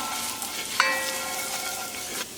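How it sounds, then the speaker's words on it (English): Garlic frying in a pan as it is stirred quickly, with a close steady sizzle, a sharp clink of the utensil against the pan and soft scraping strokes. "you have to be careful when cooking garlic not to burn it. So I'm going to stir it really quickly."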